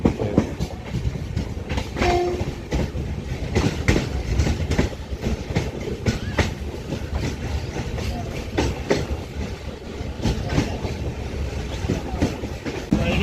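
A Diva passenger train rumbles steadily along the rails with rhythmic clatter, loud and close, amid bustle at Khed railway station with faint voices in the background.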